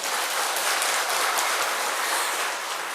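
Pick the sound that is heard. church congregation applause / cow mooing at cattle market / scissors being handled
church congregation applause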